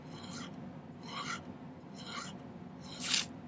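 A hand file rasps across a small silver earring piece in four close, steady strokes, each a short gritty scrape, with the last stroke the loudest.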